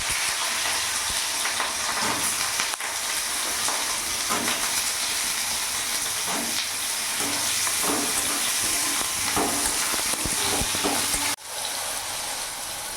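Diced brinjal sizzling in hot oil for a sajne flower chorchori, with a steady loud frying hiss and occasional stirring scrapes, no voice.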